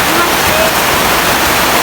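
Heavy rain pours down in a dense, unbroken roar of water that fills the whole clip at a loud, constant level, with no other sound standing out.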